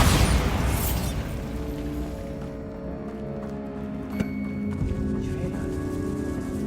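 The Bombarda explosion spell in Hogwarts Legacy on PS5: a loud blast bursts at the start, then a rumbling magical decay fades under sustained tonal game ambience inside a tomb.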